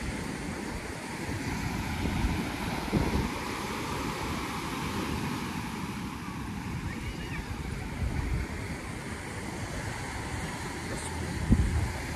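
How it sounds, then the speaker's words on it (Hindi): Steady wind rushes across the microphone with a low rumble of surf behind it, occasional gusts thumping briefly. "मस्त हवा चल रही है"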